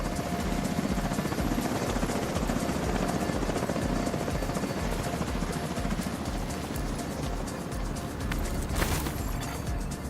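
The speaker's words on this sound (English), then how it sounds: "Recon 4 has a visual on an unknown helo headed east over the Potomac." In The Division 2, a helicopter flies overhead with a loud, continuous rotor chop that stays steady throughout and swells briefly near the end.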